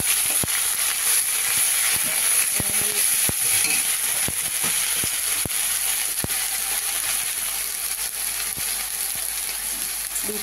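Ginger-onion paste and bay leaf frying in hot oil give a loud, continuous sizzle, broken by scattered crackles and light clicks that sound like a spoon against the pan.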